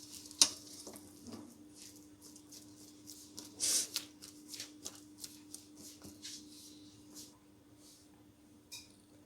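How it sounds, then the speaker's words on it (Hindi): Broken Marie biscuits are stirred into a cooked cold-cake mixture in a pan off the heat, giving soft, quiet scraping and shuffling with a few sharper clicks of the spoon against the pan. "इसको फिर अच्छी तरह मिक्स करेंगे।"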